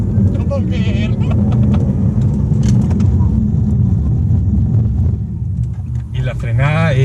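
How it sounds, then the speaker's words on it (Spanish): A Porsche Taycan Turbo electric car launches hard under launch control, filling the cabin with a loud, dense roar of road and drive noise that holds steady, while someone talks excitedly near the end. "Pie izquierdo en el freno, aceleras a full, te manda alerta, launch control activado"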